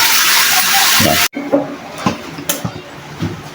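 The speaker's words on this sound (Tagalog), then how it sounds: "Itong telephone shower." Water sprays steadily from a handheld telephone shower head in a bathroom, a loud close hiss that cuts off abruptly, followed by scattered drips, splashes and handling knocks.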